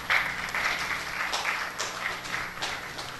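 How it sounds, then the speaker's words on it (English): An audience at a business festival gives a speaker a round of applause, a moderate burst of clapping that rises at the start and continues in uneven waves. "with a round of applause"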